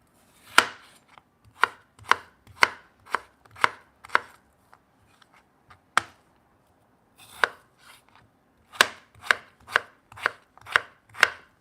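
Potatoes being chopped with a knife on a cutting board, a quick series of sharp, close knocks in bursts with a short pause midway, no voices.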